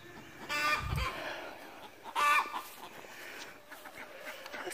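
A backyard hen squawks and clucks after laying an egg, two loud bursts of agitated calls separated by quieter clucking, close by with no talk.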